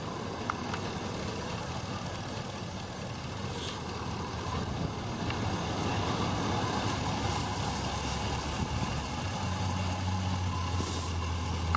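A 5.3-liter V8 idles steadily and fairly quietly with a slight vibration, a constant low rumble running unbroken and without revving, with no one talking over it.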